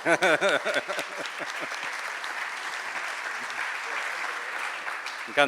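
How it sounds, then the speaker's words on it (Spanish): Audience applause breaks out at a Spanish-language talk after a short chant, with clapping that starts loud and dense, holds steady for several seconds and swells again at the end; a voice is briefly heard over the start. "Un aplauso."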